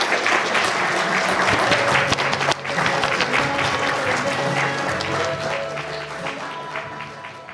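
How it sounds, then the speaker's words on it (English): A large audience claps steadily and warmly for several seconds, the applause holding strong before gradually easing, with faint voices and a few musical notes beneath. "Let's give them a warm round of applause"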